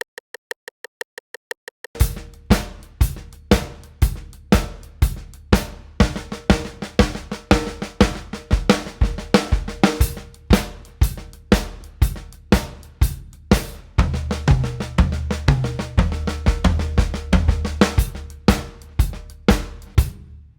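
A drum kit plays steady driving patterns with rapid triplet tom and snare fills, preceded by a few even metronome clicks, with cymbals ringing throughout.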